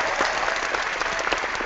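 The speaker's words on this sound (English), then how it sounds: "we're going to need some applause for that dress" A crowd claps and applauds for a dress, dense and steady throughout, with a faint voice mixed in.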